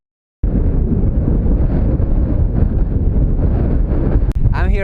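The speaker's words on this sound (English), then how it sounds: "It's extremely windy" Heavy wind buffets the microphone at the foot of Slaettaratindur mountain in the Faroe Islands, a loud continuous low roar with gusting surges, starting abruptly after a moment of silence.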